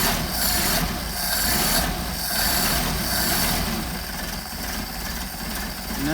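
A cold engine idles on Solex 44PHH carburetors, a loud, steady, rough running drone that holds for the whole stretch with slight swells in level and no voices.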